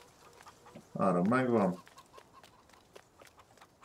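Roosters in the video game Farming Simulator 19 giving one loud, close cluck lasting under a second, with someone talking quietly around it.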